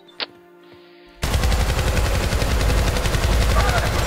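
Gunfire in the futuristic shooter game Syndicate: a brief quiet moment with a click, then sustained loud rapid automatic fire filling the rest of the clip.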